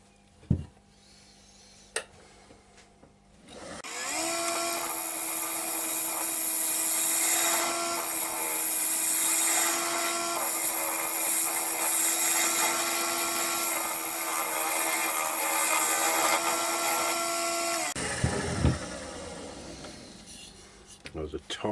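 A woodturning lathe facing off a wooden workpiece for a vase, a steady loud rasping cut with a humming motor tone starting after a quiet moment and running about fourteen seconds before stopping, with faint handling noises on either side.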